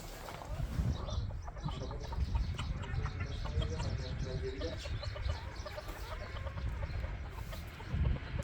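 Chickens and hens cluck continuously while eating in a coop, a busy close chorus of short calls with a person talking over them.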